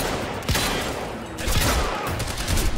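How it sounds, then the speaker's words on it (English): Shotgun blasts in Quantum Break, an Xbox One shooter, ringing out as three or four sharp, booming reports spaced about a second apart over a noisy, echoing game backdrop. "I am really bad shot with this shotgun."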